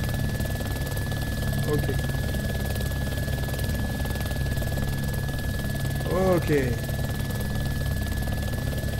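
Steady low mechanical drone of a helicopter engine in the video game DayZ runs throughout, with a brief voice speaking in French over it near the end.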